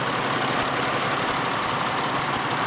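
A Ford Mercury V6 with an open injector fault idles roughly and misfires, a close, continuous engine rumble with uneven knocking pulses and no voices.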